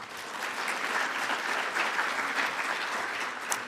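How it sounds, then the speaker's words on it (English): At a ceremony honouring the Women, Peace and Security agenda, an audience gives itself a round of applause, an even, dense clapping that sounds distant and fairly quiet and holds steady throughout. "Let us give ourselves a round of applause again."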